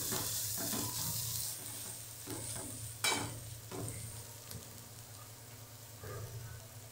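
Spicy tomato chutney with coriander being stirred in a pan, soft sizzling beneath intermittent scrapes and clacks of a spoon, with one sharper knock midway; quiet and close.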